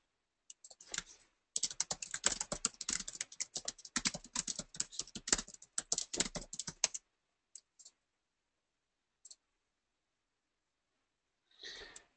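Rapid keystrokes rattle on a computer keyboard in quick bursts for several seconds, then trail off into a few isolated taps and a brief final flurry, close and fairly quiet with silence between.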